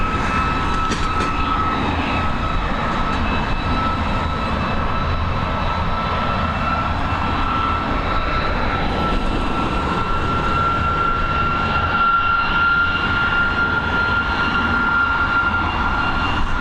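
An Airbus A330 jet at Dublin Airport gives off a continuous, loud engine roar with a faint high whine, holding steady throughout.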